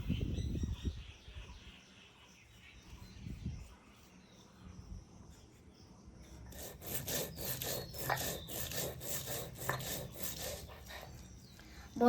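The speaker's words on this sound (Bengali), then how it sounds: "আগে আমি বাটবো জিরাটা।" Cumin seeds are ground on a grinding stone in a kitchen, a soft scraping rhythm that grows steadier and stronger in the second half, faint and close with no talking.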